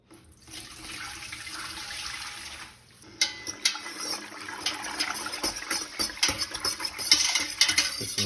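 Mayhaw jelly is stirred continually in a pot, starting as a steady bubbling hiss and then turning into busy, uneven scraping and clinking of the spoon against the pot, close and fairly loud.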